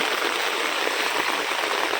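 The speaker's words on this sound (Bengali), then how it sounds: "বেশ জোরে জোরে বৃষ্টিটা হচ্ছে" Heavy rain pouring near a railway station at night, a dense continuous hiss of falling water, close and loud with no break.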